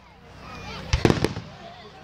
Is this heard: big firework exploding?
yes